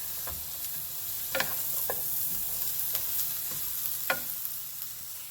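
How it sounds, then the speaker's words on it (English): Half a small onion sautéing in a tablespoon or two of rendered bacon fat gives a steady soft sizzle, broken by a few sharp scrapes and stirs of a utensil in the pan. "now I'm going to saute half of a small onion"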